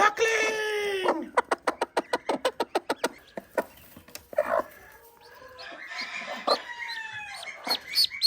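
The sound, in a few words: duckling chirping near hen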